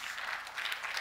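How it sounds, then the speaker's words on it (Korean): A conference audience at a Seoul future forum breaks into applause, a dense, even wash of clapping filling the whole second. "모두 박수로 부탁드립니다"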